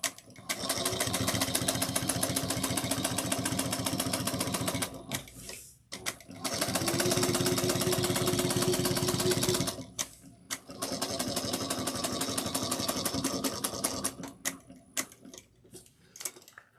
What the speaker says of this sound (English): and we're going to top stitch it.